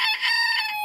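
A backyard rooster crows in one short, bright, strained burst, close and clear with no talking over it.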